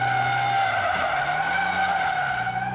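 A car drifting on dry ground gives a continuous loud tire skid with a high screech, steady over an engine drone that rises and falls, with no talk.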